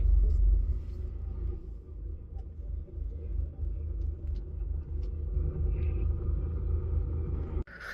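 A truck's engine rumbles low and steady while it maneuvers to park in a European loading yard, a continuous deep drone with slight swells, ending in a sharp brief knock.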